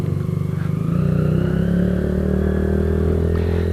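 A Kawasaki Z125 motorcycle with a bad transmission, set up as a trackbike, revs up from idle into a steady, close, loud engine drone that holds for several seconds.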